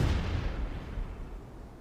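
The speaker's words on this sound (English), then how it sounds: "What is up with the fireworks?" Fireworks go off with a heavy boom at the start that rolls into a fading, rumbling crackle, fairly loud and unaccompanied by speech.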